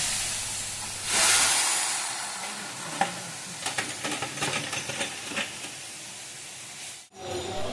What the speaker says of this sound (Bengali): পাশের কড়াইতে আমি ভাতের সমস্ত সবজিগুলো ভেজে নিচ্ছি